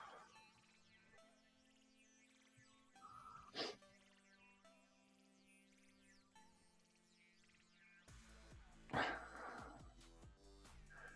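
A dog whines in short, rising yelps over faint background music, louder bursts standing out near the middle and end.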